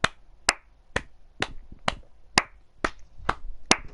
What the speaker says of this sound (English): you heard me applaud